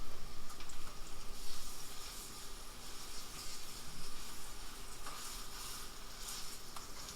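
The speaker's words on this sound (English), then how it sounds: "Nice little sizzle sound going on there." Chicken pieces sizzle in a hot frying pan, a steady broadband crackle and hiss running throughout, fairly close, with no voices over it.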